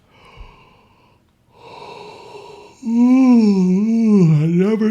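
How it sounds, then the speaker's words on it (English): A person yawns out loud: a few breathy inhales, then a long voiced, wavering groan that rises and falls before fading, close and fairly loud. "I never stifle a yawn."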